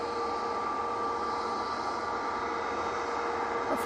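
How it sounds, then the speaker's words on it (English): An Aer Lingus airliner landing at Manchester Airport gives off a steady droning engine hum with sustained whining tones, moderately loud and unbroken, swelling slightly at the very end. "Lovely arrival so far from this Aer Lingus."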